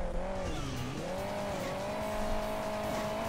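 Car engine whining and shifting pitch with tyre squeal and skidding in Hill Climb Racing 2, a steady close game soundtrack of revving motor and scraping wheels throughout.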